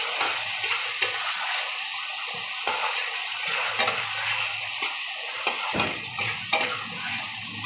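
Spices for a prawn curry are sautéed in a pan, sending up a bright, steady sizzle close by, broken by spatula scrapes and stirring knocks at irregular intervals, with no one speaking.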